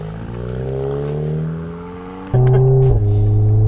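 A stage 2 tuned Volkswagen Golf R engine revs up with steadily rising pitch, then jumps into a louder, harsher burst of acceleration close by before briefly dropping.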